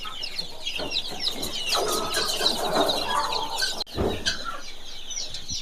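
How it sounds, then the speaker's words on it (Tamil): Guinea fowl on a farm call in a busy, repetitive chorus of harsh, rapid squawks and clucks, fairly close, with a brief pause near the end. "கிண்ணி கோழி இது ரெண்டும்"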